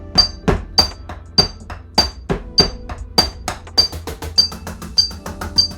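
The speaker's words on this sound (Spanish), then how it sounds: "tocar en la batería electrónica con ella apagada" Rubber pads of an electronic drum kit are struck with the sound module off, giving dry, hollow taps and clicks in a steady rhythm, about two to three hits per second, close and unamplified.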